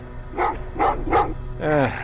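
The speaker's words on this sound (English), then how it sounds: "what's with the dogs?" Dogs in the video game Terminator Resistance bark three times in quick succession, then give a longer yelping whine, close and loud with no talking.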